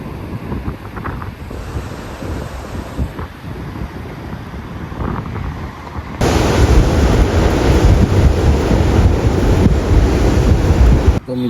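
Sea surf on the Konkan coast at Ganpatipule, Ratnagiri, rolls in steadily under strong wind buffeting the microphone, growing noticeably louder and rougher partway through.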